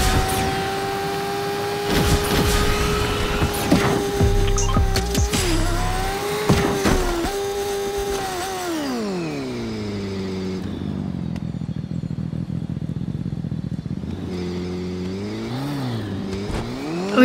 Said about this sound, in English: Motorcycles go fast, as you kind of see.